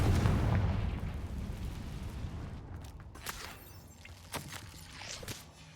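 A Confringo fire spell bursts in Hogwarts Legacy with a loud, low boom that rumbles and fades over a few seconds, followed by scattered crackles and small pops of debris.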